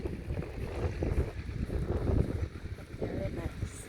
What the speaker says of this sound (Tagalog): snow niya, hangin pa kaayo.